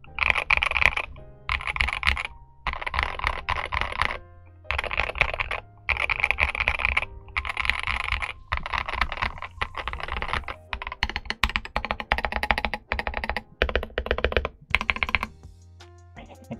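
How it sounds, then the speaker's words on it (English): Rapid typing on a modded RK61 mechanical keyboard, clacky, close and typewriter-like, coming in bursts separated by short pauses, with no voices. "It kind of sounds like a typewriter to me. It sounds like an older keyboard."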